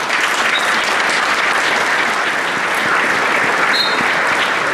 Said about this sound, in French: lui adresser une minute d'applaudissement en sa mémoire